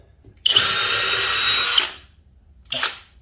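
A Flex drill/driver in drill mode at speed 2 bores a 1/32-inch hole, whining loudly and steadily for about a second and a half before spinning down, then a shorter burst follows, close up with no talk.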